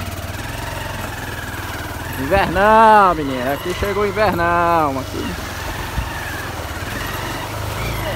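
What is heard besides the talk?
motorcycle engine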